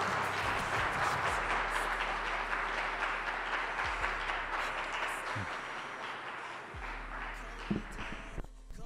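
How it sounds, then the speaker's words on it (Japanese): Applause from an audience welcoming a film producer and director as guests at a talk event for the drifting film Alivehoon; a steady, moderately distant wash of clapping runs through the whole stretch. "皆様拍手でお迎えください。"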